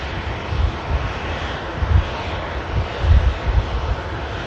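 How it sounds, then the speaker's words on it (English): Boeing 737-800 taxiing in at Manchester Airport after vacating runway 23 right, a continuous distant engine rumble and roar with a few low surges. "E737 800 series just taxiing in,"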